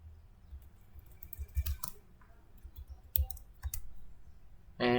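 Sparse computer mouse clicks, a few sharp isolated taps spread over several seconds against a quiet room background, with a louder rustling burst at the end.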